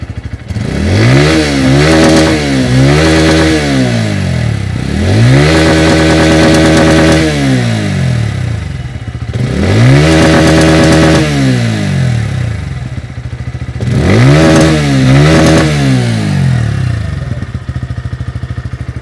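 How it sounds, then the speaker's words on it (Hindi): A 2023 Bajaj Pulsar P150 motorcycle engine idles, then revs up in repeated throttle blips, with a deep, throaty exhaust note rising and falling close by. "अब आप इस बाइक के इंजन का साउंड सुनिए और एग्जॉस्ट नोट को भी सुनिए"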